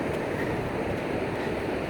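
Ocean surf at Carpinteria beach under a light offshore breeze, a steady broadband wash of breaking waves with a windy hiss, loud and continuous with no voices.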